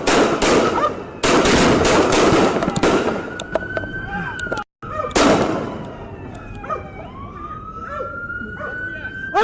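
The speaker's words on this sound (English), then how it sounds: "The officer fired approximately 10 gunshots" A police officer fires roughly ten rapid gunshots at an armed suspect during a close-range confrontation, sharp loud cracks in quick bursts, followed by echoing decay, sirens, and shouting voices.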